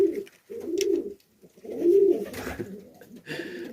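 Domestic pigeons coo in low, throaty bursts close by, several rolling calls separated by brief pauses, with faint rustling between them and no talk.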